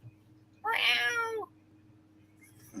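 A cat gives one clear, drawn-out meow close by, loud against a quiet electrical hum, followed by a faint short sound at the end.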